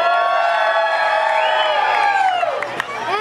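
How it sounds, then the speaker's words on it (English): A crowd at a live wrestling show during a Latino festival cheers and whoops for a wrestler in the ring, a loud, sustained mass of voices with sharp shouts rising near the end. "Let me hear you guys cheer for somebody that you like"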